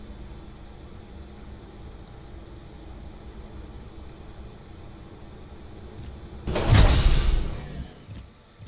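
Airlock doors in a video game hangar open with a sudden loud whoosh and rush of venting air after several seconds of quiet low rumble, then fade out.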